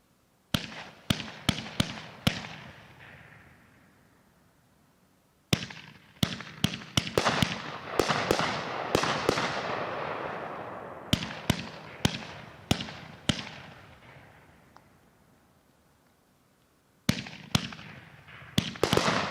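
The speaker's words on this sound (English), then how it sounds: "Next up, Vintage by Brothers, a 4-1 25 shot angled cake" A Brothers Vintage 25-shot angled fireworks cake fires in three rapid volleys of sharp cracking bursts. Each volley fades into a long crackling tail, and quiet gaps separate the volleys.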